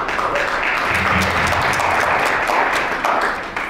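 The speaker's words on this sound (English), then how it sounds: "Just give them a round of applause." An audience at a security summit panel gives a dense round of applause for the panelists, loud and sustained clapping that fills the whole stretch with a faint voice underneath.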